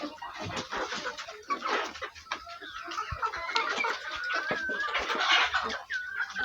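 Busy chicken clucking and peeping close by, with scattered scratching and pecking noises and some chirps rising over the constant flock chatter.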